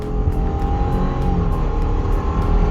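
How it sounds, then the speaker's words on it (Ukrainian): A 2016 Subaru Legacy 2.5 with an automatic gearbox accelerates from a standstill toward 100 km/h on an uphill road. A loud, steady engine drone builds inside the cabin over the whole stretch, with no talk. "Стартуємо ми від 0 до сотні вгору."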